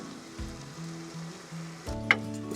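Potatoes dropped into a pan on a camp stove in a truck kitchen, with a soft sizzling hiss and a few light clatters from the pan, fairly close and with no talking.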